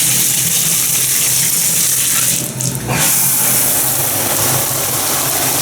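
Hotel shower in a La Quinta bathroom in Plano, Texas, running loud and close as a steady rushing spray, briefly dipping once as the stream shifts before continuing evenly.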